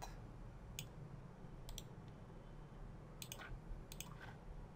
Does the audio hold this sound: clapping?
no